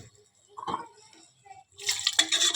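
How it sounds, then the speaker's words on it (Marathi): Water is poured into mutton curry seasoned with salt and mutton masala, headed for a pressure cooker: a faint clink first, then a loud, steady rushing splash filling the last second. "पाणी टाकते."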